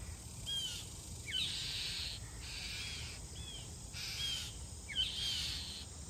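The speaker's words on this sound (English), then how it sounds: "Listen to all that racket them baby jays are making." Young blue jays call in harsh, repeated bursts from nearby trees, several rising squawks spaced across a few seconds over a steady outdoor hum of insects.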